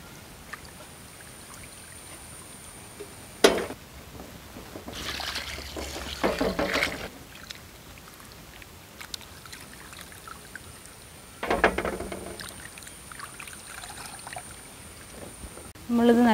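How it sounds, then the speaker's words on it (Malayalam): Chicken and green banana pieces washed in a bowl of water, with bursts of splashing and pouring separated by quieter stretches, ending with another splash. "നമ്മൾ ഒരു 3-4 പ്രാവശ്യം നല്ലോണം കഴുകി വയ്ക്കാം."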